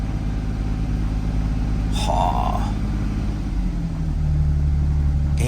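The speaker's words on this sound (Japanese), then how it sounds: "エンジンはやっぱり古い燃料とかもまだ結構入ってるんだけど、エンジンはスムーズだね。" A used JDM Toyota Supra, still running on old fuel and a weak battery, idles smoothly just after starting, a steady low rumble that deepens slightly near the end, with a brief sigh from someone nearby.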